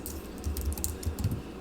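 Quick, irregular keystrokes clatter on a computer keyboard as values are entered into simulation software. The close, crisp clicks come in short bursts, with no voice over them.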